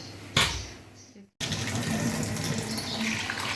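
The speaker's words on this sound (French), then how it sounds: "On rajoute de l'eau." Water pours into a pot of mutton korma, starting with a short gush, pausing briefly, then running as a steady, close, splashing stream until the end.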